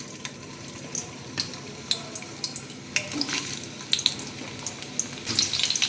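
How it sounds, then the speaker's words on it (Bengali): Potato slices frying in mustard oil in a wok give a soft, steady sizzle, broken by intermittent clicks and scrapes of stirring, and the sizzle swells louder near the end; no voices. "আলুগুলোকে ভেজে নিচ্ছি"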